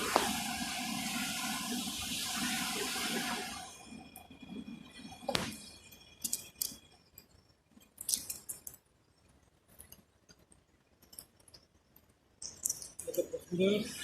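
Water gushes loudly from an object just hauled up on a rope during magnet fishing, a steady rushing pour that fades after a few seconds into scattered drips, splashes and handling clatter, with occasional voices in the background.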